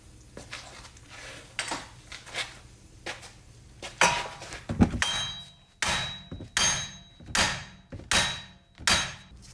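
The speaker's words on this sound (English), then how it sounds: "keep hitting it with a hammer to break it loose." Repeated sharp metallic hammer blows on a front wheel bearing of a Chrysler Town & Country, about a dozen strikes in an uneven rhythm, ringing clanks that get louder and more regular toward the end.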